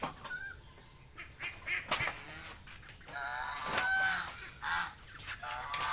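Pet ducks and geese at feeding time, with repeated honks and quacks at moderate distance mixed with faint rustling, the calls rising and falling over several seconds.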